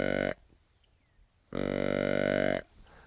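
Two short buzzy grunts from a deer call imitating the lighter tending grunt of a younger deer, each about a second long with a pause between, close and clear.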